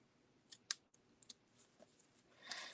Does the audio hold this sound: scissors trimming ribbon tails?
yes